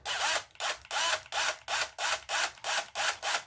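Inexpensive household electric drill running in bursts, eight evenly spaced whirring pulses in a steady rhythm, close and loud with no voices.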